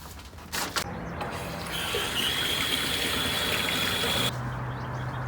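Water pours steadily onto potting soil mixed with compost, wetting it before broccoli and kale seedlings are transplanted; a continuous near rush that runs for several seconds after a couple of brief knocks, with no talk.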